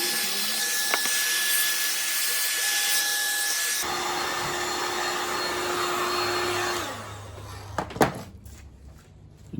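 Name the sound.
heat gun heating material to shrink it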